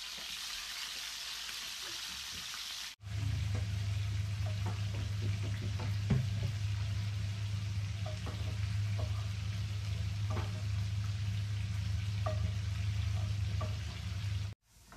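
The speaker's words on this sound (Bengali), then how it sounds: "এখন হচ্ছে মাছ ফ্রাই করবো" Hilsa fish frying in a pan, a steady loud sizzle with a low hum underneath, broken by scattered pops and crackles and starting abruptly after a few seconds of quieter noise.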